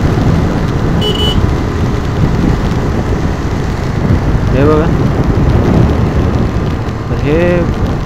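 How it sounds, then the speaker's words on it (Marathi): Steady, loud rain hisses throughout a monsoon ride near the Ekvira Devi temple, with a person speaking briefly over the downpour. "आणि पाऊस परत एकदा इथून सुरू झाला."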